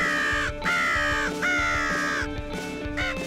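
Crows cawing during a crow hunt in Lanaudière, Quebec: three drawn-out harsh caws in a row, then a couple of shorter ones, close and clear over a faint low background.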